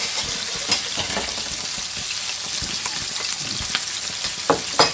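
Red mullet fillet sizzles and fries steadily in a pan, a dense continuous crackle with a few louder pops and spatters near the end, no voices.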